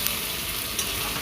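Mutton cooked down with masala sizzles in a pan, a dense, steady frying hiss with a couple of small pops, close and continuous.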